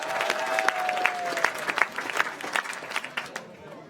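Applause from a crowd at a sports and business awards event, steady clapping with scattered louder claps, heard under a loud presenter's voice.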